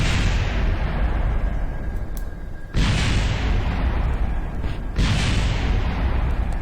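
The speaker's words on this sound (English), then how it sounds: "that last explosion was just needless" Three loud explosions blast in the Zero Space Program video game, each a sudden roaring burst that decays into a long rumble, spaced about two seconds apart with no speech.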